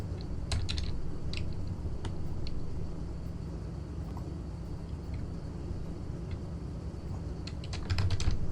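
Keys clatter on a wireless computer keyboard whose battery is failing, in scattered quick taps and short clusters over a steady low background rumble, with no one talking.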